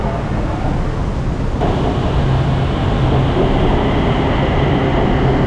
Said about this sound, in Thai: ในที่สุดรถไฟก็มาสักที